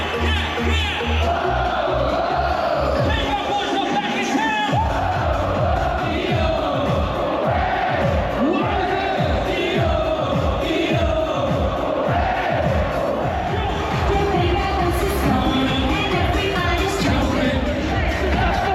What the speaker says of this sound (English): The crowd was like insane.